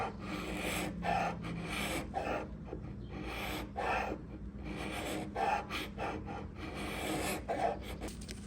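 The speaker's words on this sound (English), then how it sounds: "This is a 1-inch Carbide scraper and it's great for little areas like this." A 1-inch carbide scraper drawn across raw wood furniture in short rasping strokes, about seven scrapes at a steady rhythm, close and moderately loud with no talking.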